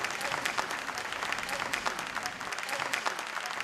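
Loud, sustained applause from an audience at a Madhya Pradesh police event as the state's home minister, Babulal Gaur, is invited onto the stage, dense clapping filling the whole stretch without a break.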